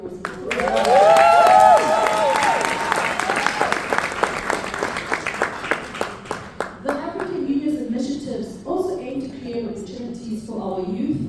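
At an evening event honoring Vumi, an audience breaks into applause that builds and then thins into scattered claps, mixed with cheering and whoops, as a voice starts speaking over the fading clapping.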